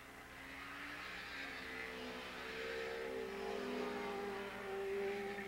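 Several 750 modified production road-racing motorcycles at Willow Springs Raceway come over a hill crest and run down the back straight, their engines buzzing and rising in pitch at a moderate distance.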